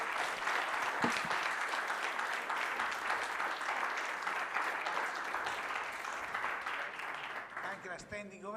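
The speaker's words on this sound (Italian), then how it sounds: "l'applauso si può fare" Audience applause following a talk, sustained clapping from a sizeable crowd throughout, fairly even and dense, thinning slightly near the end with a brief voice-like sound at the close.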